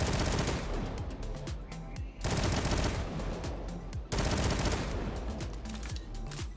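Lord of Wolves firing in Destiny 2, unloading loud, rapid automatic bursts in three long strings with brief pauses between them and no talk.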